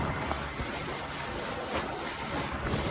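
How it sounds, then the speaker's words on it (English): A small Gheenoe Classic skiff runs at quarter to half throttle through choppy whitecaps, giving a steady, close roar of wind and water with repeated splashing slaps against the hull and no talking. "Hitting these white caps coming at us."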